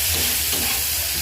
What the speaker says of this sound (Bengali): একটু সিমাইটা ভাজা করছি।